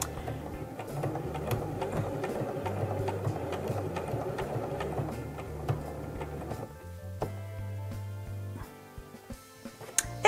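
A sewing machine stitches fabric for a fabric door stop, its steady motor hum and rapid needle ticking running close and continuous, then pausing briefly as the cloth is repositioned before stitching resumes with lighter ticks.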